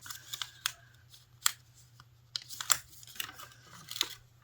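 Paper being folded into an origami heart note gives soft, close crinkles and crisp creasing swipes in irregular bursts over a faint low hum, with no talking.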